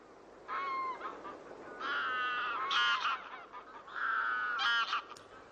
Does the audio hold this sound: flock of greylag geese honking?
yes